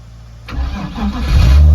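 A car engine cranks and fires into life after a jump-start from a Toyota, the sudden start followed by a rising idle that grows louder and steadier, close to the microphone.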